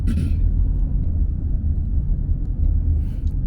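A low engine rumble from a taxi heading to a bus terminal, steady road noise inside the car with faint higher hiss at the start and end.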